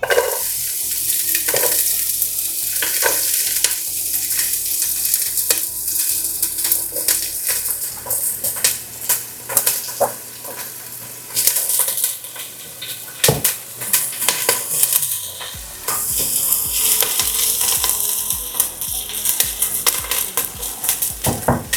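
Onion dropped into a hot pan for Polish zurek soup sizzles and crackles steadily, with stirring scrapes and utensil clatter against the pan; no talking.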